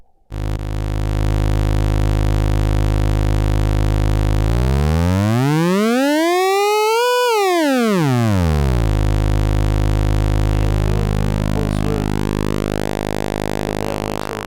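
A loud, buzzy square-wave tone from a DIY AS3340 analog synthesizer oscillator holds steady, then sweeps sharply upward in pitch and back down before wavering and settling again.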